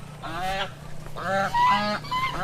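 Domestic fowl beneath a tree on a cacao plantation give loud, honking, goose-like calls in three close bursts, near and clear with no talking.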